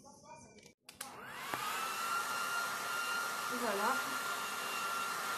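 A hair dryer drying hair switches on after a brief handling clatter and then blows with a steady, close, whining roar. The airflow pitch wavers briefly as it moves, and a voice speaks a word at the start.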